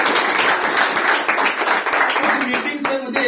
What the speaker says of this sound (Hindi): एक बार जोरदार ताली चाहूंगा सर।